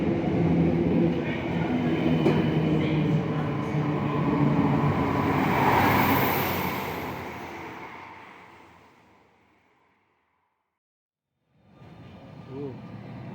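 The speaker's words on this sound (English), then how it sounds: "that is a tram" A tram pulling in at Mitcham Junction, a steady loud rumble and rolling hiss that swells and then fades to near silence, with a brief renewed sound at the end.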